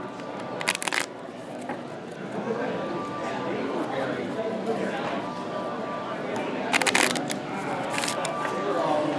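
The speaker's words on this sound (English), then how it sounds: "And what they'll do now is they'll shuffle their cards into their deck." Cards for the Puppy Dogs From Space board game being shuffled into a deck, with a couple of brief riffling bursts between stretches of steady background noise.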